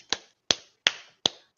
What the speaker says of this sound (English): I'm clapping because I just thought of it